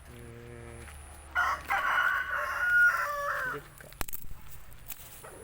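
A rooster crows once, loud and close, among chickens on a hillside, with brief clucks and scratchy farmyard noises after it and no one speaking.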